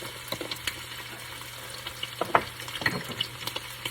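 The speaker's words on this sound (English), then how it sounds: "break all this up, let it fry" Italian sausage frying in a pan, with a steady soft sizzle and scattered louder crackles and spoon scrapes as the meat is broken up, fairly close.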